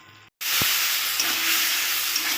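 Tomatoes frying in a pan over high heat for a chutney give a loud, steady hiss of sizzling after a brief quiet gap at the start, with no talk.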